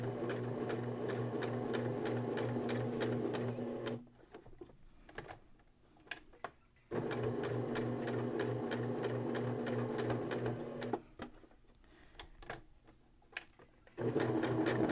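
A sewing machine stitches a small hexagon keychain, whirring steadily in two long runs separated by quiet pauses filled with light handling clicks as the fabric is turned at the corners.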